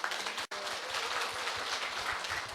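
Sustained audience applause after a lecture on Palgongsan feng shui folktales, a broad steady patter of many hands in a hall that continues throughout, briefly cut out by a dropout near the start.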